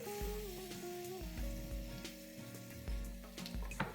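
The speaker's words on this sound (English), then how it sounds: "Let's add in sliced onions" Sliced onions dropped into hot ghee set up a steady, crackling sizzle, close and fairly quiet, with faint spattering pops and clinks over it and no talk.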